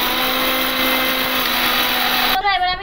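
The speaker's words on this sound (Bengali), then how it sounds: "গোটা গরম মশলাগুলো এখন সব আমি গুঁড়ো করে নেব" Electric grinder pulverising whole garam masala spices, a loud steady high whine running without a break for over two seconds before cutting out abruptly into quieter room noise.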